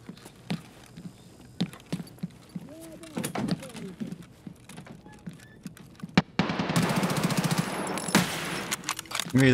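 Gunfire from Escape From Tarkov plays in scattered sharp shots and short bursts under ongoing voices, with a louder, denser stretch of firing and noise toward the end.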